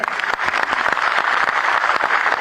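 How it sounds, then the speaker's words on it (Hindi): Dense applause from the audience at an education department appointment letter ceremony in Dehradun, loud and continuous over a short stretch. "एक बार सभी के लिए जोरदार तालियां"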